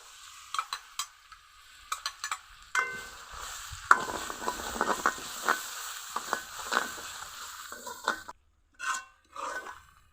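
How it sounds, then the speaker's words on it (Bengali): Ground gourd leaf paste, mixed with fried onion and dried chilli, is stirred and fried in a pan, giving soft scraping strokes and a gentle sizzle, close and fairly quiet, in irregular bursts with short pauses. "এভাবে নেড়ে নেড়ে ভাজা ভাজা করে নিতে হবে।"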